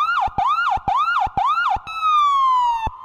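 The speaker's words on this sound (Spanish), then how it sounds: "Las sirenas suenan." A loud emergency siren sound effect wails in rapid rising and falling cycles, then shifts into one long falling tone, close and alone with no voices.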